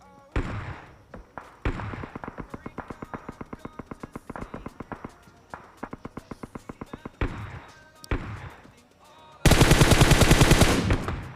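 Gunfire in the mobile battle-royale game PUBG Mobile: rapid bursts of automatic fire, several separate volleys with short gaps, ending in a louder, denser burst of shots.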